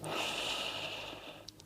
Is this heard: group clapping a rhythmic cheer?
no